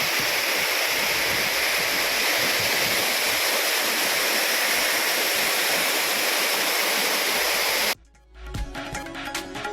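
Courtallam falls swollen by heavy rain roar in a loud, continuous rush of water that cuts off abruptly near the end.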